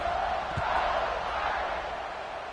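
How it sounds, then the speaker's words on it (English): Stadium crowd in an EA Sports football video game on PS5, a continuous broad buzzing roar of many voices after a score, steady and fairly loud throughout with no distinct calls. "this crowd is buzzing after that last score."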